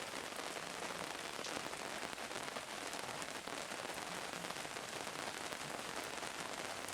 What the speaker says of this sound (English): The rain increased.